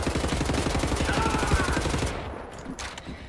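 Rapid, steady gunfire from a shotgun-wielding enemy in Wolfenstein: The New Order, a dense run of close, loud shots for about two seconds before cutting off into quieter game noise.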